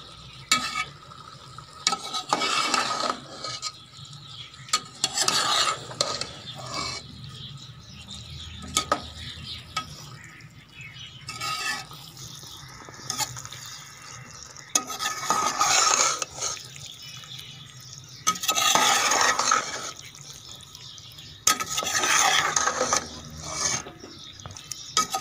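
Vegetable macaroni is stirred in a pan over low heat, giving repeated bursts of scraping and soft sizzling in uneven strokes with quiet pauses between them, no talking.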